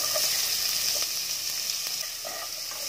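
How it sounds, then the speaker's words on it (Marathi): Finely chopped onion frying in hot oil in a pot for a spicy prawn curry, a continuous bright hiss and crackle that holds steady and close throughout with no talking. "तेल तापलंय, त्यामध्ये मी बारीक चिरून 1 कांदा टाकतेय।"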